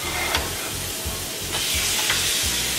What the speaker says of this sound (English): I heard the sizzle.